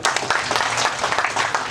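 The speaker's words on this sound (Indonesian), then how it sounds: "Tepuk tangan dulu ya." Audience applause at a speech honoring a regional official, a dense, steady wash of many hands clapping that holds at an even, fairly loud level throughout.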